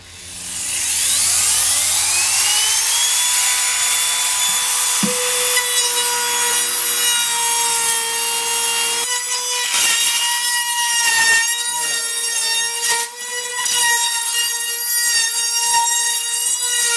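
A router fitted with a 5/8 inch bit, set 1/16 inch deep and guided by a stop block, spins up and cuts into a guitar top. It gives a loud, steady, high-pitched whine with grinding wood-cutting noise throughout.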